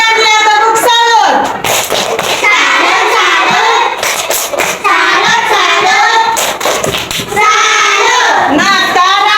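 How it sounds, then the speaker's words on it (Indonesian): A group of children in a classroom give a clapping salute, loud patterned hand claps mixed with shouting voices and chanting, crowded and energetic throughout. "Berikan dia tepuk salut."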